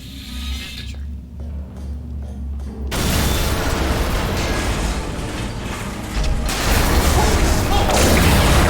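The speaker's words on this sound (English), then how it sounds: "That explosion blew the whole toxic goo pump station apart." A toxic goo pump station blows apart in the video game Portal Stories: Mel: after a quieter mechanical stretch, a sudden loud blast erupts into sustained roaring, rushing debris and noise that grows stronger again near the end.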